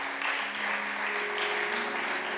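Applause from a church audience at a gathering, a dense continuous clatter of many hands clapping at steady volume, with a faint sustained tone running underneath and no spoken voices.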